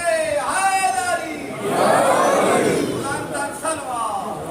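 A gathered crowd at a Muharram majlis shouts the Naara-e-Haidari slogan in a loud, swelling collective cry, following a preacher's raised call.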